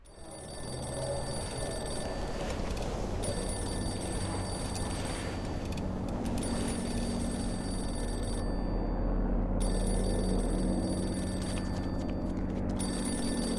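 A telephone rings in the video game Mafia II, a steady bell-like ring that goes on for the whole stretch over a constant background, with no talking.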